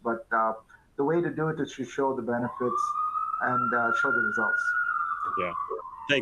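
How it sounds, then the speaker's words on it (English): Ambulance siren outside a hospital emergency bay, a steady wailing tone rising and sustained in the background beneath people talking in a meeting. "So you can hear the ambulances in the background."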